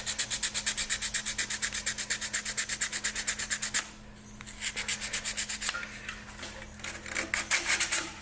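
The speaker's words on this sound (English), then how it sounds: "I probably just got to clean this rusty one with some sandpaper" Sandpaper scrubs a rusty metal part on a vintage snow blower in quick, steady back-and-forth strokes, close and fairly loud. After a brief pause the rubbing resumes, less regular, over a faint constant hum.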